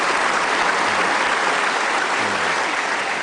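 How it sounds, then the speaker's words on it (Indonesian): Studio audience applause on an Indonesian television talk show, a continuous, even roar of many clapping hands throughout. "Kita kasih tepuk tangan"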